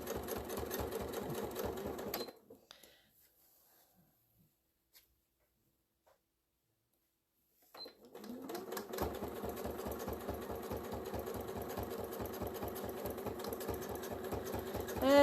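A sewing machine stitches a quilt along a quilting ruler with a steady, close, rapid mechanical chatter that stops for several seconds of near silence, then starts up again and runs on evenly, with no speech.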